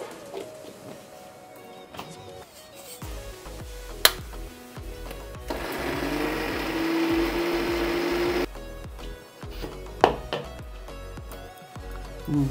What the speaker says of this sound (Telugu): సరే మిక్సీ పట్టుకుందాం